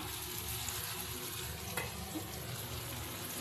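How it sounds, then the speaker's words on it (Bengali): Soybean chunks frying in a wok, a faint, steady sizzle with a small stirring knock partway through, heard alone without voices. "বাদ বাকিগুলো আবার সেম প্রসেসে কড়াইয়ের মধ্যে দিয়ে দেবো দিয়ে আমি এগুলো লাল লাল করে সব ভেজে নেব"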